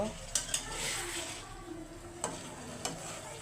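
Whole fish sautéing in a pan, a steady low sizzle with a few sharp scraping clinks of a utensil against the pan, heard close with no voices.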